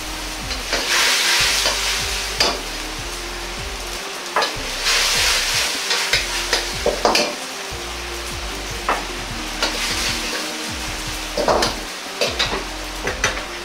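Yakisoba sizzles and fries in a pan as a cornstarch-and-water slurry is poured in, a steady loud hiss with bursts of stirring and scraping, close up with no talking.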